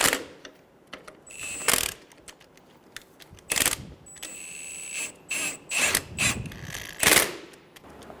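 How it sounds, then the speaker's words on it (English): Ratchet wrench tightening engine mount nuts on a 2000-2007 Ford Focus 2.0L, bursts of rapid clicking separated by pauses, close and clear, no voices. "Snug the nuts down."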